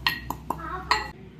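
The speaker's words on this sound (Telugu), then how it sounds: "ఇందులో మిరియాలు వేసి నేను ఈ విధంగా దంచడం జరుగుతుంది" Black peppercorns pounded for Ugadi pachadi in a kitchen, four sharp clinking strikes at uneven intervals, close and fairly loud, with soft ringing between hits.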